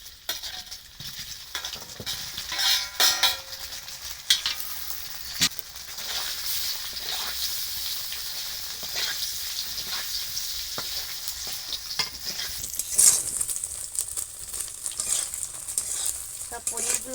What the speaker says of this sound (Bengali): তেল গরম হয়ে গেছে, এবার পনিরগুলো দিয়ে দেব।